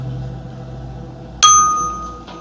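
A small therapy bell, struck by a vibrational therapist, gives one bright metallic strike that rings on and slowly fades over a quiet indoor background.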